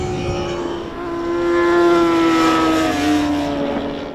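A Yamaha R1 superbike at speed on a track, its engine a loud, steady high-revving wail that rises and holds with a slight pitch sweep, with wind rush, no talk.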